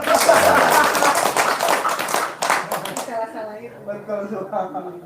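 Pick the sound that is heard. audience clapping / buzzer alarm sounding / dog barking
audience clapping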